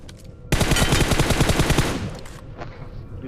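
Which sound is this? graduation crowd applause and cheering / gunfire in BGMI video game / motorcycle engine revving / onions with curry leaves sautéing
gunfire in BGMI video game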